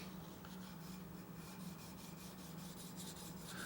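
Stainless steel part of a Demko AD20S knife being polished, giving a steady, continuous close rubbing rasp with a faint low hum underneath and no talk.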